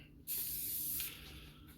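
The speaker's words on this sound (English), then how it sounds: "So I am going to spray this on here" A steady aerosol spray paint can hisses for under a second, loud and close, onto a bike part, then tapers into a softer lingering hiss.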